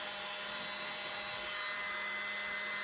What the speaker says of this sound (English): This is the adorable blower that I got from Donna. You can blow it around.